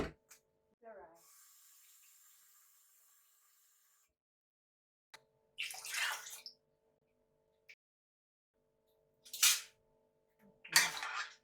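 Water is poured into a pot of rice with coconut cream to cook nasi lemak, arriving in several short splashing bursts separated by quiet gaps.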